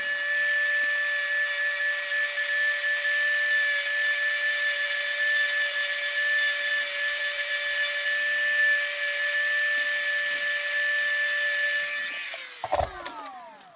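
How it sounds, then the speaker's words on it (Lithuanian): A thumbnail is filed during nail art work, giving a steady, close, continuous whirring grind that holds evenly for about twelve seconds before cutting off with a brief clatter. "Va šitaip gražiai pasidildžiuojam."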